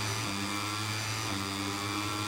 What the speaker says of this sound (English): clutches in, revs are up, and as the lights go out, we start this Dutch Grand Prix.